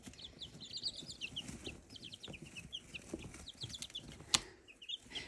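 Pet birds in their enclosure, soft clucks and short high chirps repeating close by, fairly quiet, with light rustling between the calls.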